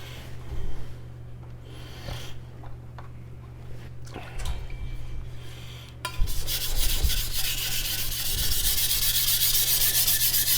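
A carbon steel CCK Chinese cleaver is rubbed back and forth on a soaked King 1000 whetstone, giving steady close gritty scraping strokes that grow denser and louder in the second half, with no talking.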